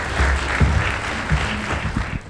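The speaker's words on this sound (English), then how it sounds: "I invite you to give a little applause as Fred Provenza comes up here" Applause from a seated audience at a grazing and farming conference as nutrition speaker Fred Provenza comes to the stage: steady, dense clapping for about two seconds at moderate volume, with no talk over it.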